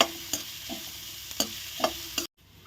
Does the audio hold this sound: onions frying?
yes